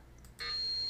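A computer login error beep in the game Ever 17: a single sustained high electronic tone that starts abruptly partway in and holds steadily to the end, preceded by faint soft taps.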